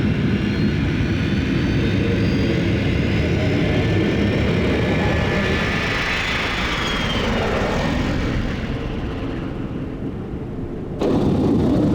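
A rocket in flight in the video game NET:Zone gives a loud, steady roar like a propeller aircraft, swelling slightly midway, then cutting off abruptly near the end.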